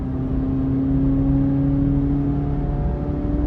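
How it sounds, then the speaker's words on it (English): A naturally aspirated car engine holding a steady, even drone from inside the car, with a clear sustained tone that climbs only slightly over a few seconds. "I just love that naturally aspirated vibe that this car gives you, you know, the instant throttle response"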